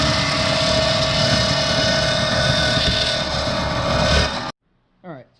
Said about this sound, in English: it's now a vertical bandsaw. So I'm just going to cut this roughly as close as I can to the circle